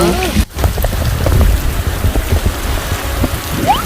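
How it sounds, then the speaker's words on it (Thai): Steady drizzling rain patters over a fishing pond, a continuous soft hiss with scattered droplet ticks and a brief dropout near the start, no talk. "ฝนพรำ"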